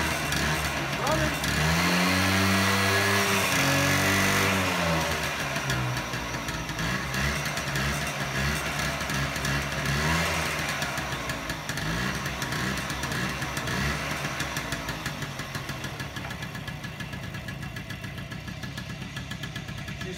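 A Honda Hobbit moped engine idles with the choke on. It runs as a steady buzzing putter that revs up briefly early on, then settles into an even, close idle while someone talks over it.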